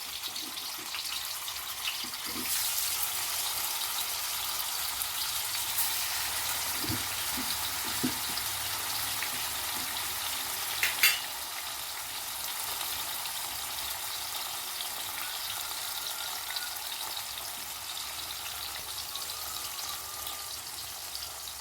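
Pieces of fish frying in a pan with curry leaves, giving a steady, even hiss of sizzling oil throughout with a few soft clicks and no voices.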